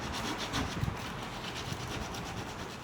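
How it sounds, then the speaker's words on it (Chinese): A carved wooden piece is sanded and polished by hand in traditional gilded woodcarving, making a steady, continuous rubbing scrape with small uneven strokes and no talking. "第2个步骤呢，就是打磨。"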